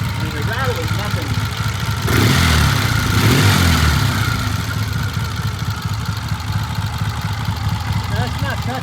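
A 1978 Triumph motorcycle engine idles steadily in a shop with a rattle, getting louder for a couple of seconds as it's revved, then settling back to a low, even run while people talk nearby.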